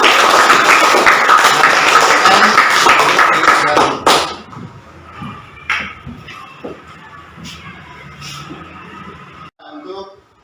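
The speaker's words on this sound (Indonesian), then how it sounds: "nah kasih tepuk tangan dulu untuk kelompok 1" Classroom applause for the first student group, a dense burst of clapping from the class that stops abruptly, followed by scattered taps, shuffling and a few voices.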